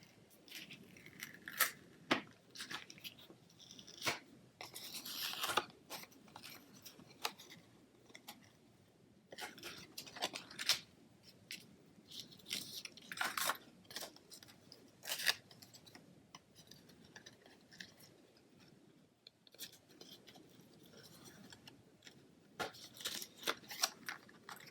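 Scissors snip through scalloped lace trim for a handmade card, giving many small, close, crisp clicks in irregular bursts separated by quiet pauses, faint overall and with no voices.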